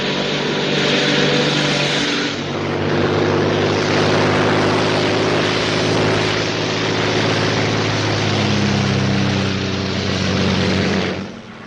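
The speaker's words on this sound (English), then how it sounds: "a Royal Air Force plane is waiting for us at a secret landing place." A Royal Air Force propeller plane in flight over Dover, its engines giving a loud, steady droning roar that holds unbroken throughout, with a slight swell in the middle.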